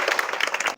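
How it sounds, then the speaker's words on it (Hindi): Short burst of clapping from a small group for a schoolchild at a government school in Bihar, brisk and close, lasting under a second. "ताली हो जाए इसके लिए।"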